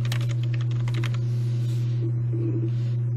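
Typing on a computer keyboard to search an accounting software help feature, a fast run of light close key clicks that thins out after a second, over a steady low hum.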